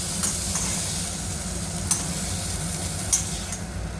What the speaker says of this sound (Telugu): ఇవి కొంచెం ఒక ఐదు నిమిషాలు ఫ్రై కావాలి మనకి